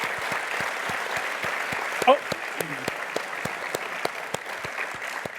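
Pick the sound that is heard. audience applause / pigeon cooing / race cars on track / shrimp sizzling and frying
audience applause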